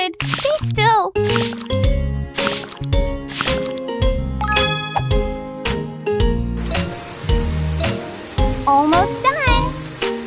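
A puppy gets a shower in a pet care video game: a splashy water spray and dripping sounds mix with jingly game music and voices, the spray growing denser near the end.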